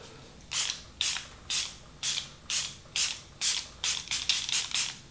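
About a dozen quick hissing sprays from a pump bottle, close and evenly paced, speeding up slightly toward the end.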